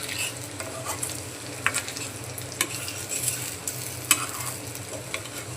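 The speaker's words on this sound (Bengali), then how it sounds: "সবগুলো বড়া দিয়ে দিচ্ছি, এখন সুন্দর করে ভেজে নেব।" Malabar spinach leaf fritters fry in hot oil in a pan, giving a steady, close sizzle and crackle with occasional sharper pops and stirring scrapes, heard alone.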